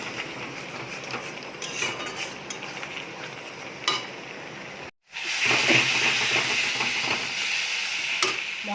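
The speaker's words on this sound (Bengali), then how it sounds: "এবার হচ্ছে লঙ্কা হলুদ জিরের গুঁড়ো একটু কাশ্মীরি লঙ্কা দিয়ে দিচ্ছি।" Chili powder, turmeric, cumin powder and Kashmiri chili powder fry with browned onions in a pan for an Indian curry, giving a steady close sizzling hiss with stirring scrapes, a brief cut midway, then a louder sizzle.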